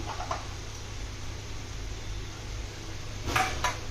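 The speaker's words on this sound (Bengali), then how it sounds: "এখন নেড়ে দিচ্ছি, আর দিয়ে দিব ক্যাপসিকাম" A spoon scrapes and clinks faintly against a pan while pizza bun filling with capsicum is stirred, soft steady sizzle underneath and a couple of brighter metallic scrapes near the end; no voices.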